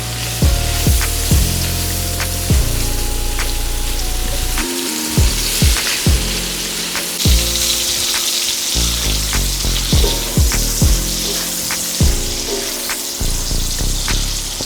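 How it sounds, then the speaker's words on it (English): Smoked sausage browning in butter in a hot pan, a steady dense sizzle that carries throughout under layered background music. "we're gonna add our smoked sausage. Go ahead and brown those up real quick"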